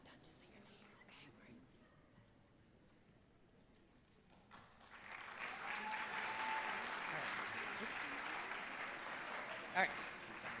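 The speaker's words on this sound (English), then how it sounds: "I just wait for the clapping to get done to say your name." Applause from an audience at a veterinary college ceremony swells after a few seconds of quiet murmuring and carries on steadily to the end, moderately distant, with a single louder clap near the close.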